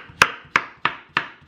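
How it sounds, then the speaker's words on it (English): A knife chops down through a boiled vegetable onto a cutting board, making five sharp, evenly spaced cuts at close range, with no voices. "I'm cutting it on slices"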